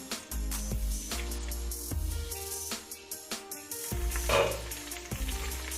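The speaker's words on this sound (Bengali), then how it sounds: "রসুনটাকেও কিন্তু আমি ভেজে নেব একটু ঢেকে ভাজবো রসুনটা" Garlic and green chillies fry in oil in a covered pan, with a continuous sizzle broken by a run of sharp, regular pops and crackles up close.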